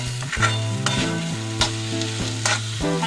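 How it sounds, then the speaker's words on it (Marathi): A semolina mixture for modak is stirred in a pan, with a few scraping strokes of the spoon over a steady melodic music bed. "हे आता छान असं मिक्स करून घ्यायचं आहे छान असं ह्याला मिक्स करायचं आहे"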